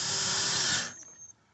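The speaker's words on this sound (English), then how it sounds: "now I'm gonna use a drill bit to make it a little bit faster" A power drill with a bit spins steadily, driving door bolts on a 2003-2010 Porsche Cayenne; the close, whirring run lasts under a second before winding down to quiet with a couple of faint clicks.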